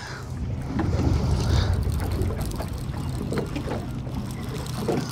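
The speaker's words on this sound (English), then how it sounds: "Oh my God, that wind. It's choppy." Wind gusting over choppy water from a boat while fishing for blue catfish in spring, a steady loud rumbling roar of wind buffeting the microphone with water slapping underneath, continuous throughout.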